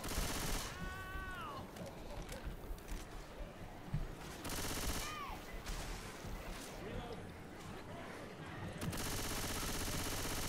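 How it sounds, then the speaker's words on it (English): Gunfire from the zombie shooter game Left 4 Dead 2 crackles in rapid automatic bursts, with sharp gaps between volleys, as players talk over the shooting. "Shoot it, shoot it."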